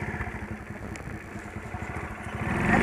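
A motorcycle engine labours and chugs in a rough, uneven rhythm as it climbs a steep rural dirt road uphill, close by, swelling louder toward the end with no talk.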